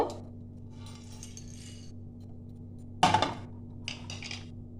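Fried spices for a Bengali-style niramish paneer masala tipped out of a metal pan. A brief clatter and scrape rings out partway through, followed by lighter clinks, all over a low steady kitchen hum.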